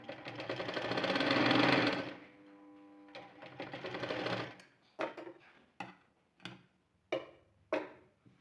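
A sewing machine runs in a steady burst as it stitches tucks into a girl's readymade blouse, then pauses and fires several short, separate stitching bursts, close and clear with no talk.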